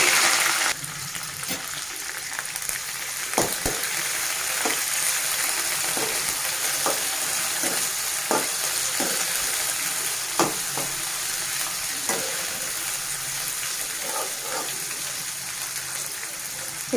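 Green chilies and onion frying in a pan for a chana dal and bottle gourd curry, a steady close sizzle with scattered taps and scrapes of stirring throughout.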